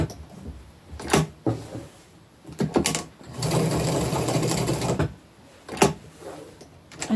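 A sewing machine stitches an upcycled fabric applique in a short steady run of about two seconds, set between scattered clicks and handling knocks of fabric and the machine.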